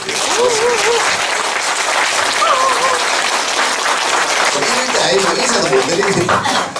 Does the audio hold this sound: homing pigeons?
no